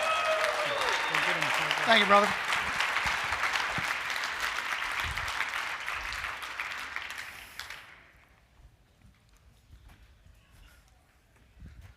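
An audience applauds for a real estate investor, a loud dense clapping that swells with someone speaking over it before it fades out around eight seconds into quiet.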